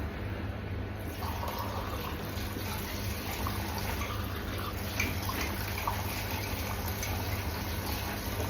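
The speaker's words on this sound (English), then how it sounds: "I'll just wash the cup up." Running tap water pours steadily as a cup is washed up by hand in a home kitchen, a continuous close splashing flow throughout.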